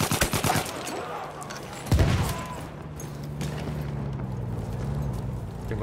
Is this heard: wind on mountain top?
no